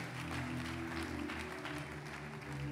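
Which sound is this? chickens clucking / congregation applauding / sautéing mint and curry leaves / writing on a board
congregation applauding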